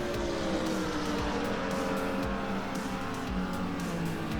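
Race car engines drone steadily in an AI-driven racing video game, with a Ferrari 250 GTO and a small front-wheel-drive Mini in the field, a continuous layered roar with no pauses.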